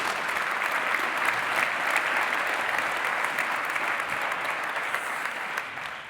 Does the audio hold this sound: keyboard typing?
no